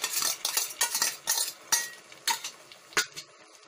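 A spoon stirs curd into gourd curry in a pan, making a run of rhythmic, close scraping and clinking strokes against the metal over a low sizzle.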